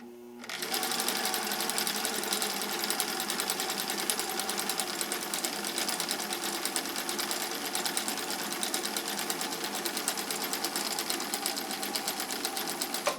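A sewing machine runs a red stitch on cam C, a fast, even mechanical whir and tapping that holds steady and close for the whole stretch with no pauses.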